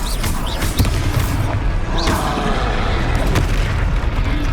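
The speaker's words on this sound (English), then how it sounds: "Explosion!" An explosion in the video game Hogwarts Legacy, a dense rumbling boom with crackling bursts and debris, loud and sustained for several seconds with no talk over it.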